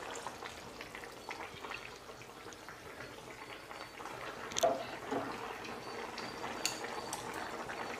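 Tamarind extract poured over cut vegetables for sambar gives a soft, wet trickle and splash, quiet and steady with a slightly louder splash partway through and no voices.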